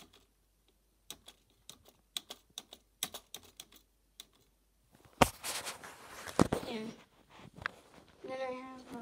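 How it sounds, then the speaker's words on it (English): A rainbow computer keyboard clacks close by with separate, unevenly spaced keystrokes for about five seconds. Then a person talks loudly over a few more taps. "I got this rainbow keyboard. Sadly, it doesn't change colors, but it works because when I hit space, watch."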